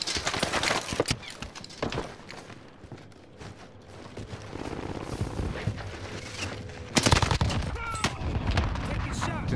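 Gunfire in a first-person shooter video game: sharp bursts crack out near the start and again around seven seconds, over a steady bed of game noise and movement.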